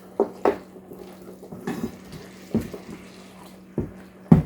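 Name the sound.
stirring meat mixture in a pan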